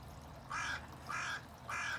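A crow caws three times in an even rhythm, each call short and harsh, moderately distant, over a faint low outdoor background with no voices.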